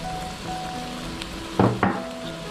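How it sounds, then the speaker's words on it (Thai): Squid and shrimp stir-fried with holy basil leaves for a seafood kra pao, a steady low sizzle broken by two short louder bursts of tossing or scraping near the end. "แล้วก็ผัดให้ใบกะเพราสลดสลด"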